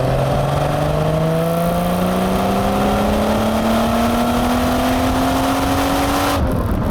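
A 1990 Jaguar XJS HE with a V12 and manual gearbox accelerates hard from inside the cabin, its engine note rising smoothly and continuously for about six seconds, then cutting off abruptly as the throttle lifts.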